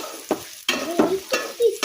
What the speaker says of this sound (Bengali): এই যে পোলাও চাল দিছি, পোলাও চাল ভাজার জন্য দিছি।